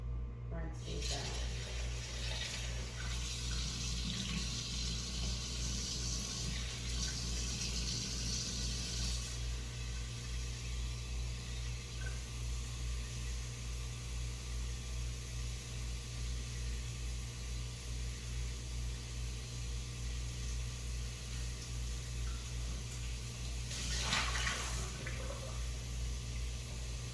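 Tap water runs steadily into a bowl while quinoa is rinsed, a constant close rush beneath a low hum, with a brief splashier surge near the end.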